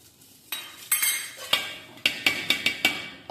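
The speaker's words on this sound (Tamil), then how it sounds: "கொட்டுங்க அரிசியை." Rice grains rattle and clatter into a metal pot for ghee rice in a series of sharp, uneven bursts, close by, with no talking.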